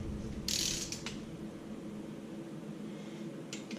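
A ratcheting torque wrench works the cylinder head bolts on an LS engine, giving a few short, sharp clicks close by over a low background hum, with quiet gaps between the clicks.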